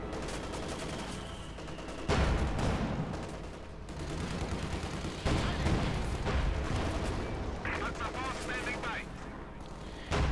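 Battle noise in the real-time strategy game Company of Heroes 2: repeated heavy gunfire bursts and booming cannon blasts from a Panzer IV tank, mixed with scattered rifle and machine-gun rattles, loud and dense throughout.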